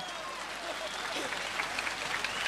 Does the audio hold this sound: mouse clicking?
no